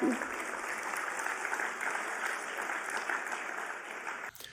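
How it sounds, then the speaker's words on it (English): Steady, dense applause from an audience at a political speech, a continuous wash of many hands clapping at moderate distance that holds evenly for several seconds before cutting off abruptly. "You can clap for that."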